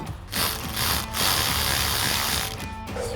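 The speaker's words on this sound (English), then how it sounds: "we've got our T15 Torx bit on our ratchet, and we'll pop these off" A ratchet fitted with a T15 Torx bit clicks steadily as it backs out trim screws on a 2014-2018 Silverado 1500 fender flare, a close, continuous mechanical rattle with brief pauses.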